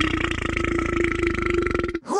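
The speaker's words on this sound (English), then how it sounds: "This is how you burp." A character in the Brawlhalla video game lets out one long, loud, rumbling burp during a burping contest, steady for about two seconds and ending abruptly, with a brief voice right after.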